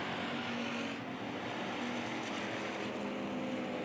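IMCA hobby stock race cars run in lap traffic at RPM Speedway, producing a steady, dense engine roar that holds at a constant level throughout, with no one speaking over it.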